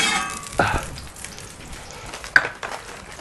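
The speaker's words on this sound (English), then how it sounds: "Right, we're going to fry off our onions." Onions fry in a little oil for smash burgers, with a low steady sizzle broken by two or three sharp utensil scrapes or taps against the pan; no voices.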